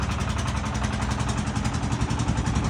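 A Shifeng 240 tractor with no muffler revs its small engine, a loud, raw, rapid chugging beat pounding steadily up close, with no talk over it.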